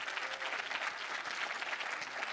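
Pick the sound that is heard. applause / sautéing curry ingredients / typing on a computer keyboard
applause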